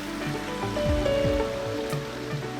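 Water runs over a low dam, a steady wash beneath shifting tonal tones and low thuds, moderately loud and close.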